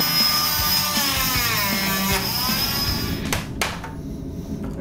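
Whining power saw cutting a prosthetic mold, its pitch wavering as the blade bites, with scraping and knocking, then the motor cuts off near the end.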